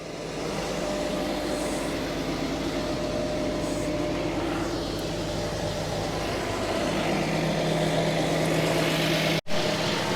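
A 1990 Mercedes 300 CE AMG coupe's engine runs steadily at idle, a loud, even low drone that holds for about ten seconds with only a brief dropout near the end.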